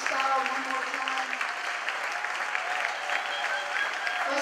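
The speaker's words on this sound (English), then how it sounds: "Let's clap our hands for everyone that's been on the program." An audience at an evening community event claps steadily, a dense, even round of applause from a sizable crowd with a voice faintly heard over it.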